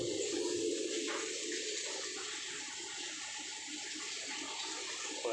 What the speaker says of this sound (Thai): เปิดน้ำลงอ่าง